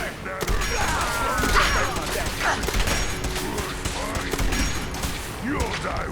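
Sustained Fallout 4 firefight: rattling gunshots and bursts crackle continuously from start to finish, close and loud, with scattered thuds and metallic clatter under a dense, noisy combat bed.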